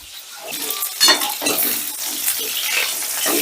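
Chicken pieces frying in a covered pan are stirred with a utensil: scraping and clinking strokes over a steady, close sizzle, with one sharper clatter early on.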